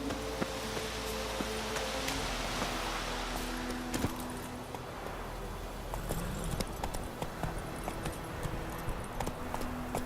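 A horse's hooves clip-clop in a steady trot in The Witcher 3 video game, close and continuous under a wash of rain-like ambient noise.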